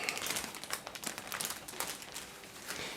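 Plastic bag holding the sprues of a Takom 1/35 model kit being worked open, a close, soft run of crinkling and rustling that lasts the whole moment, with no talking.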